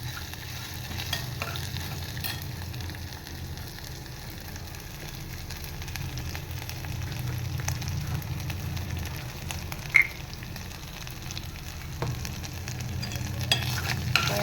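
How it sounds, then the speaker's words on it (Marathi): Green chillies, cumin and curry leaves fry and are stirred in a pan, giving a soft, constant sizzle with light scraping and an odd small pop, close and quiet, with no speech. "मिरची जिरं आणि कढीपत्ता छान भाजून घेतले मी"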